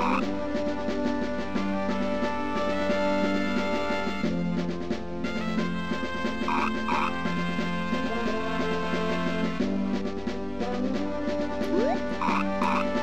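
Frog croaking in the video game Mother 3, repeated croaks heard over steady, dense game music running throughout.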